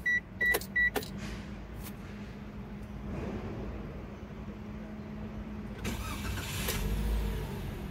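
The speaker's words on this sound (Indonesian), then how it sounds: "Kita nyalakan mesinnya." Daihatsu Sigra R 2022 facelift, a few quick beeps followed by a steady low engine idle that continues quietly, with a brief rise partway through.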